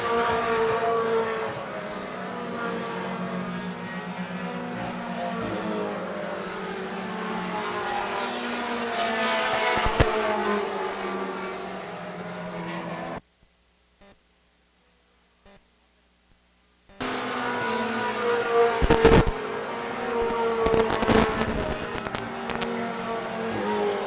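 Outlaw mini race cars run laps on a track, with a steady roar of engines and passing cars, a brief total dropout in the middle, then louder roaring and crackling passes.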